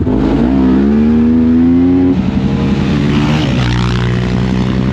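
Suzuki LTZ-400 and LTR-450 quad bikes rev loudly and race close by, with engine tones climbing, shifting and overlapping as they accelerate.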